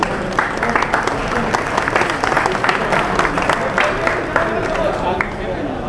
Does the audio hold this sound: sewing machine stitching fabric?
no